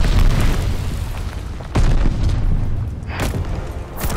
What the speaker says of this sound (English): Heads up! Enemy glide bomb coming in hot!